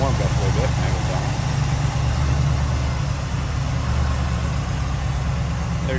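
A 1979 Chevrolet Camaro Z28 with a 350 engine and automatic transmission idling after warming up, giving a steady, loud, low rumble that runs throughout without revving.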